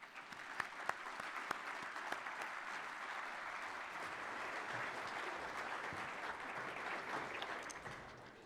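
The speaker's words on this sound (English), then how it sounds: "Let's give them a round of applause" Soft, far-off audience applause welcoming several mayors to the stage at a State of the Cities gathering, a steady even patter of clapping with a few sharper claps early on, fading slightly at the close.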